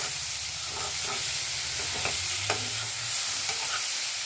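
Onion, tomato, ginger and garlic fry in butter in a pan for matar paneer, giving a steady soft sizzle with a few light stirring scrapes and taps throughout, no voices.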